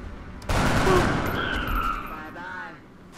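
A single loud gunshot from the game XCOM Enemy Unknown bursts in suddenly and close, its blast trailing into a rolling rumble and fading echo with a faint tonal whine.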